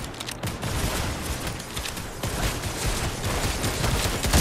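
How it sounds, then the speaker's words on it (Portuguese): Rapid gunfire from the video game Fortnite crackles in dense, continuous bursts, loud and close, forming a sustained volley that lasts the whole stretch. "Que peste é isso aqui dando tiro?"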